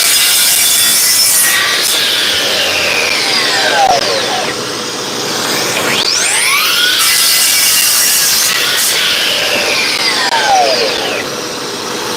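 A miter saw cuts through wood in a workshop. The motor winds up with rising whines, then grinds steadily through the cut and spins down, repeated across three loud passes.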